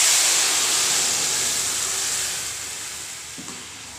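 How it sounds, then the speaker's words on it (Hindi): Tomato paste hitting hot oil with Kashmiri red chili powder, a loud bright sizzle and hiss that gradually softens over a few seconds, close up and with no talk. "साथ में डाल देंगे टमाटर का पेस्ट"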